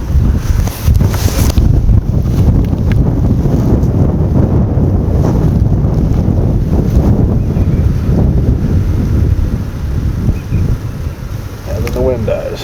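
Strong wind buffets the microphone at an outdoor rifle range, a loud roaring gust that rises and falls, then eases toward the end, with a faint voice near the close.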